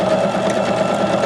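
A sewing machine stitches decorative stitch F with a steady, fast mechanical whir and rapid needle chatter. It runs continuously and close, with no voices.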